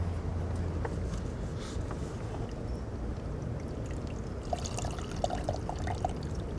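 Water is poured onto impermeable and permeable surfaces, a quiet running trickle and a few splashy drips over faint room background.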